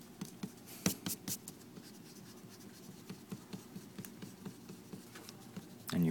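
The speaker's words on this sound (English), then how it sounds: "what you want to do is just erase your pencil marks" An eraser rubbed over paper to remove pencil marks from an inked Celtic triple spiral drawing, soft rhythmic scrubbing strokes close by with a few light taps, quiet and steady.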